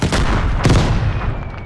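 Heavy booms from bomb blasts in the shooter game Vigor, one loud burst at the start and a second big blast midway, with rumbling tails that stay loud throughout.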